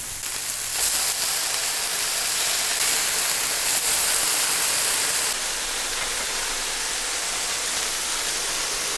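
Frozen burger patties hiss and sizzle steadily on a hot electric griddle just after being flipped, a dense, even spatter that runs unbroken and fairly loud throughout, with no voices.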